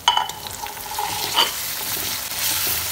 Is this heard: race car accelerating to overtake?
no